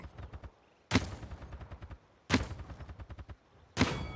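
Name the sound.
gunshots from the video game Paladins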